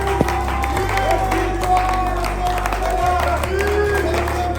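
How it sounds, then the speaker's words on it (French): Staff members applaud and shout with joy, a lively mix of clapping, cheers and whoops from a nearby group, with a low rumbling hum running underneath and a few voices standing out. "tous les cadres et agents ont fortement applaudi et remercié toutes les autorités par les cris de joie et de liesse"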